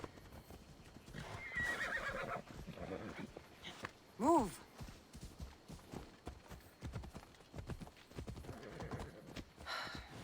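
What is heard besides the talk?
horse galloping and neighing in a video game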